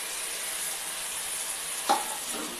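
Tomato puree is stirred into a frying cauliflower roast masala, producing a soft continuous sizzle with a single clear scrape or clink of the spoon partway through, with no talking.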